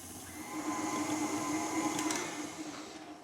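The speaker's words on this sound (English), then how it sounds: "The stand mixer does a lot of the work" A stand mixer whirs steadily through cake batter, a close, even mechanical hum with a faint rattle and a brief clink partway through.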